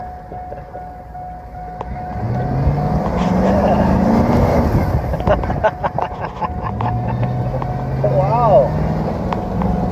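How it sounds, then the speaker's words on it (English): A farm truck with no brakes drives fast, its engine droning and rising while people talk and exclaim over it, with rattles and clunks mixed in. "looks like you know how to drive a truck with no brakes"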